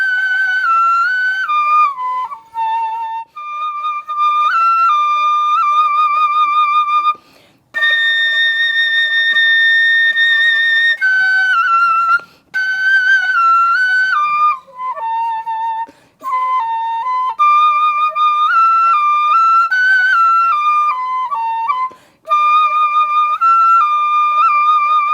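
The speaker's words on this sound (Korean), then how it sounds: "그럼 소금 소리 한번 들려드릴게요" Sogeum, the small Korean bamboo flute, plays a continuous, bright, high-pitched melody of held notes and quick runs, loud and close, with a few brief breath pauses and no talking.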